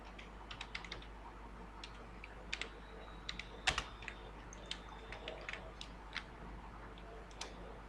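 Someone types steadily on a computer keyboard while working in an Excel spreadsheet, producing soft, irregular clicks with a few louder keystrokes over a faint background hum.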